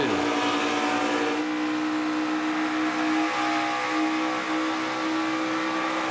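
NASCAR Xfinity stock cars race at Michigan, a loud, continuous pack of V8 engines droning at high speed with sustained harmonic roar and steady pitch shifts as cars draft close together, no voices over it.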